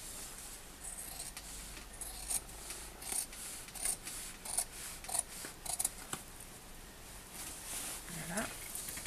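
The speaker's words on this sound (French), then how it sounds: "je viens couper tout autour du patron" Scissors snip through fabric around a sewing pattern, producing a series of crisp, close cutting clicks in an irregular rhythm over quiet room tone, with a voice speaking softly underneath.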